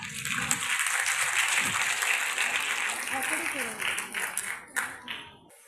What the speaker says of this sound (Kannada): ಚಪ್ಪಾಳೆ ಕೇಳ್ಬೇಕಾ?